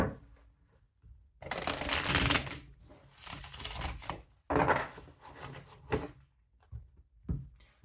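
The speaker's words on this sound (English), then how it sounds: "I'm going to do a nice big shuffle here." Crisp riffling and flapping of a tarot card deck being shuffled close up, in several bursts with short pauses between them.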